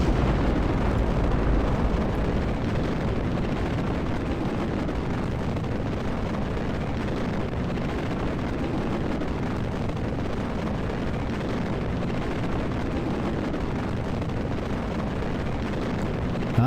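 Rocket engines roar at launch in Kerbal Space Program, a steady, dense, loud rumble that holds unbroken from start to finish with no break or talk.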